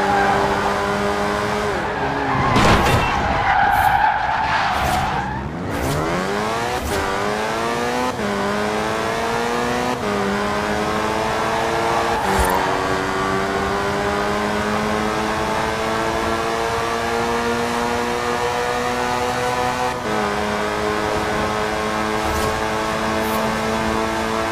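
A race car in Forza Horizon 4 accelerates hard through rising gears, engine whine climbing and dropping with each shift, tires squealing briefly early on, loud and close with no talk.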